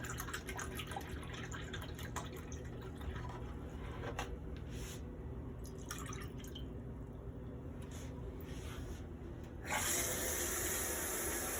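Water runs steadily from a tap into a measuring cup, faint and close, then grows brighter and louder near the end.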